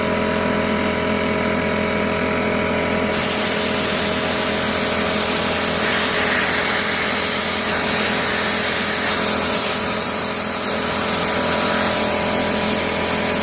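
An air compressor drives a jet through a needle nozzle worked under a motorcycle handlebar grip, making a loud, continuous rushing hiss over a steady motor drone, with the airflow shifting in pitch and strength partway through.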